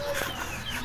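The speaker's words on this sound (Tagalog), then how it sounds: "daghan kay mig manok saba kaayo" Chickens cluck in the background outdoors where hanging rice is being prepared, a brief burst of short, busy fowl calls heard at moderate distance with no talk.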